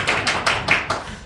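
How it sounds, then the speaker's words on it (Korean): Brief clapping from a forum audience at a district education policy meeting, several distinct bursts of hand claps in quick succession, near and fairly loud, with a voice speaking around them. "박수 치셔도 됩니다."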